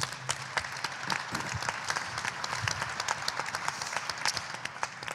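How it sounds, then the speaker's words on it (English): An audience claps steadily, many hands at once, a dense continuous patter of applause that holds at an even level throughout. "let's give a round of applause for them if you wouldn't mind"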